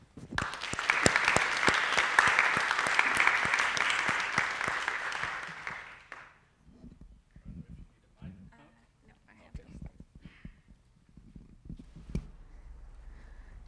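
Lecture audience applauding to welcome speaker Alexandra Lange at Ball State, a dense sustained clapping for about six seconds that fades out, followed by quiet room noise and light shuffling.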